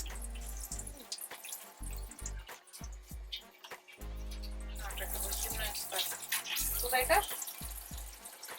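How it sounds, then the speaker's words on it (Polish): Brief voices come first, then a cold water tap in a trailer is turned on and water gushes steadily into a sink, close and fairly loud. "To odkręć jeszcze tą zimną wodę."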